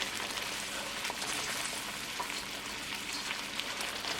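Semolina halwa with brown sugar cooks over a medium gas flame while being kept moving in the pan, giving a dense, even frying hiss that runs steadily throughout.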